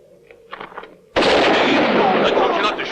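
A gunshot in a 1966 western film: a sudden loud blast cuts in after quieter sounds and is followed by a sustained roaring, reverberant burst that stays loud to the end.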